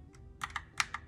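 Keys on a computer keyboard are tapped a few times, giving soft, close, quick clicks in a short irregular burst.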